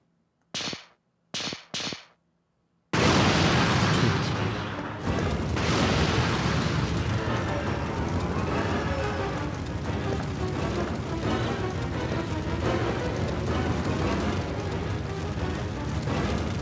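A loud explosion in Resident Evil 3: Nemesis on the original PlayStation bursts in after three short sharp cracks, then gives way to a sustained roaring room fire that crackles steadily at high level for many seconds.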